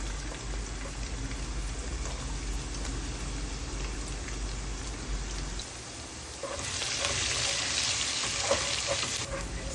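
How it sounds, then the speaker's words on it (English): Onions and chopped garlic stir-fry in a saucepan, a steady rain-like hiss of frying that grows fuller and louder partway through, with faint stirring underneath. "Stir fry till it's almost golden brown."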